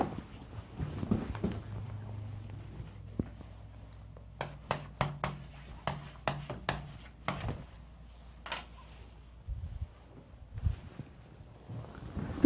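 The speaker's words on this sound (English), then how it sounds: "I'll write on the board." Writing on a board comes through as a quick burst of scratchy, rasping strokes in the middle, set against quiet room noise with a few soft knocks and rubs before and after.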